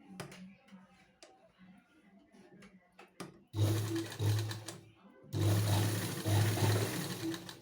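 A sewing machine runs in two bursts of rapid stitching, sewing tucks into the front panel of a blouse, after a stretch of quieter handling and fabric rustle.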